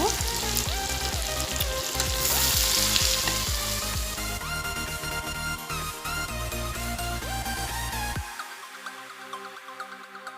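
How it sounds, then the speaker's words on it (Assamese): Mutton pieces frying in a pan with potato and tomato for a mutton curry, a loud steady sizzle with scraping stirs and clinks, fading quieter near the end. "এইখিনি আৰু ভাজি থাকিব লাগিব।"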